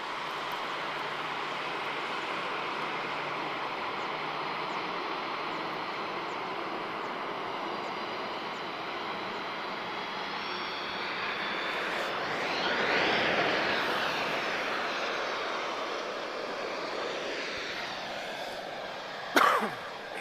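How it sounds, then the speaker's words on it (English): Distant jet aircraft taxiing toward runway 20 at Lisbon Airport produce a continuous low engine rumble and whine that swells briefly midway, with a short sharp knock near the end. "So, a few aircraft now taxiing to runway 20"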